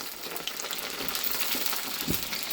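Cauliflower florets and potatoes frying in hot oil with whole cumin, dried red chilli, bay leaf and green chillies, giving a steady, dense sizzle with occasional stirring scrapes close by.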